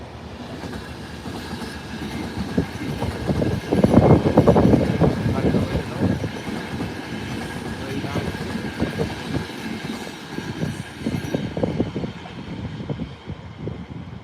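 A train rolls slowly toward a distant signal, a steady low rumble with faint clickety-clack of the railcars, swelling briefly louder then holding at a moderate, close level with muffled voices underneath.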